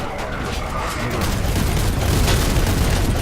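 A grenade explosion in a video game, a loud, continuous booming rumble with crackling bursts that stays heavy throughout and swells slightly toward the end.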